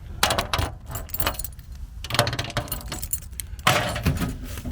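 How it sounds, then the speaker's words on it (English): A bunch of keys jangles and clatters repeatedly at close range in irregular bursts while someone sorts through them during an outdoor shortwave radio antenna setup. "I've got my keys on me"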